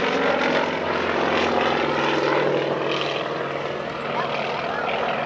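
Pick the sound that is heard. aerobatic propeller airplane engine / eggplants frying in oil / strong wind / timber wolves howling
aerobatic propeller airplane engine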